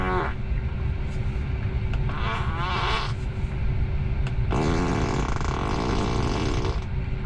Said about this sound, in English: the speaker from that seat will make fart sounds